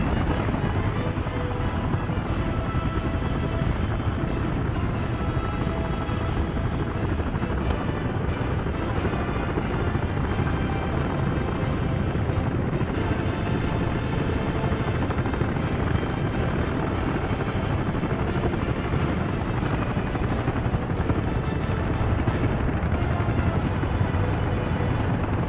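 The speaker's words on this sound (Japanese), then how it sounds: "8機のヘリが一斉に羽ばたきます。" Eight helicopters lifting off together in the city-building game Workers & Resources: Soviet Republic, a steady loud rotor drone with a dense low rumble that holds unbroken throughout, with no talk.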